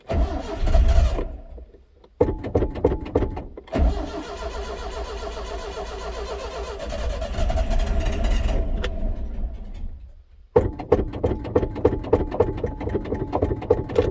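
A Datsun car with a worn-out accelerator pump on its carburetor cranks repeatedly in loud, rhythmic whirring bursts separated by short pauses, then catches and runs with a busy mechanical idle.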